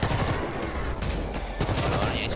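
Machine gun fire rattles in the zombie shooter World War Z, loud rapid bursts with a brief pause in the middle, layered over game noise.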